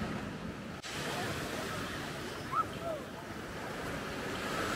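Ocean waves at Waikiki Beach, Hawaii, a continuous broad roar of surf with wind buffeting the microphone, steady and fairly soft, no voices present.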